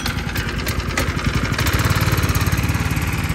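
A small engine on a water pump is choked and started, then settles into a steady, close, throbbing idle that fills the clip.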